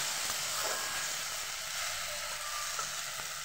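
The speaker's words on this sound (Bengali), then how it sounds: "এটাকে ভালোভাবে মশলাটাকে নাড়িয়ে চাড়িয়ে কষিয়ে নেব।" Okra in spice masala fries in a pan, a constant close hiss of sizzling oil with a few faint scraping stirs and no voices.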